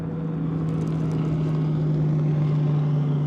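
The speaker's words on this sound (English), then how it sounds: "as bass boat goes by" A bass boat's outboard motor runs past on the Tennessee River, a steady droning hum with a strong low tone, loud and continuous throughout with no talk.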